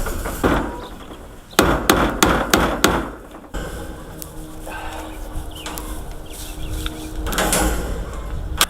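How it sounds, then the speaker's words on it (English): Hammer blows tacking material up with U-nails on a homestead build: a quick burst of about six sharp, close strikes, then quieter background, with a few more knocks near the end. "All I'm gonna be doing is using some U-nails and tacking it up"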